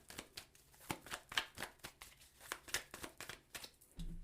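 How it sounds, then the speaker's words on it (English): Tarot cards riffled and shuffled by hand in quick, crisp bursts of papery flicks and slaps, close up, with a short low thump at the end. "So let's pull a clarifying card."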